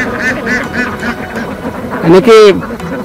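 Ducks foraging in a harvested rice paddy quack in a burst of nasal calls near the end, heard beneath steady talking and a low background drone.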